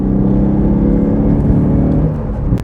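A Citroën C4 warm hatch engine pulls hard while driven quickly, a loud, close, rising drone with strong low harmonics that shifts pitch midway and holds steady under continuous road noise.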